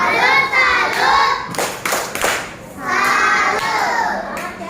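A class of schoolchildren performs a rhythmic clapping chant in a classroom, voices chanting loudly together with bursts of hand claps and thumps, the group chant rising and falling over a few seconds.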